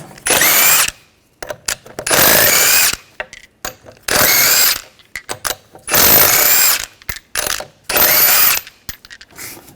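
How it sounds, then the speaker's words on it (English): A power tool with a 19mm socket spins off the wheel lug nuts of a 2013-2019 Ford Escape in five loud, whirring, rattling bursts of about a second each, with short gaps and small clicks between them. "Using a 19mm socket, take the lug nuts off."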